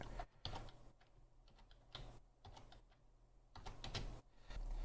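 Computer keys are tapped in quick uneven bursts while an IP address is entered, the clicks close and fairly quiet with short pauses between groups.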